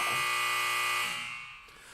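A loud electronic buzzer sounds, a harsh steady tone that holds for about a second and then cuts off, leaving a fading tail, with no voices.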